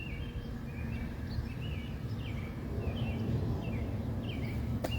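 Birds in a garden give a string of quick, thin chirping calls, faint and a bit distant, over a low rumbling background.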